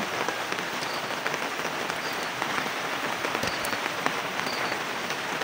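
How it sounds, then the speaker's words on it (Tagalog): Steady rain patters densely on a surface, a continuous hissing wash with scattered close drops and no voices. "Ulan dyan."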